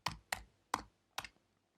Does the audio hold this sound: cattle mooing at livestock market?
no